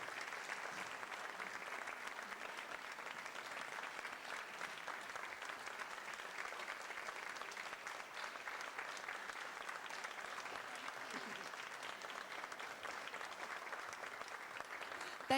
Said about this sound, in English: One more big round of applause for Jim Swick from Mayfield, Kentucky.